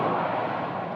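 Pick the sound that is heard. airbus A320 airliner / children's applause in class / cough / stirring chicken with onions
airbus A320 airliner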